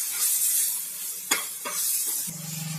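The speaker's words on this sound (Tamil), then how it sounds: "அது வரைக்கும் கொஞ்சம் நல்லா கிண்டி விடுங்க. தீ லோ ஃப்ளேம்லயே இருக்கட்டும்." A semolina and banana mixture is stirred in a pan over a low flame, with a gentle hissing sizzle, a couple of sharp scrapes of the spoon, and a low rumble near the end, all close up.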